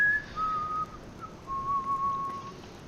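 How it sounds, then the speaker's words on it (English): A character in the video game Enderal whistles a short tune, clear sustained tones stepping between a few pitches with brief gaps, heard alone over a faint background hiss. "Whistling."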